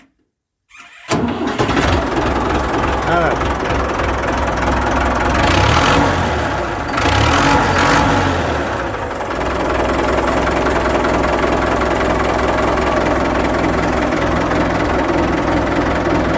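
Ford 6600 tractor engine turns over and fires, then runs at a loud, rough diesel idle with knocking clatter, briefly rising in revs mid-way before steadying again; someone says one brief word.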